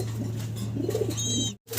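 A pair of red gola pigeons give soft, brief coos close by over a steady low background hum.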